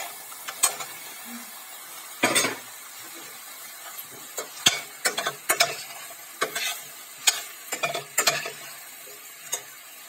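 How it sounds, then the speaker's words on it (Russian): Quartered button mushrooms tipped into a hot pan with chopped coriander, scattered soft thuds and stirring scrapes over a faint steady sizzle, close and fairly quiet. "И теперь высыпаем сюда грибочки."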